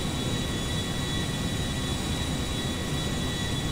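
Airplane in GTA 5 taking off, a steady loud engine roar with broadband rushing noise that holds evenly throughout, close and unbroken.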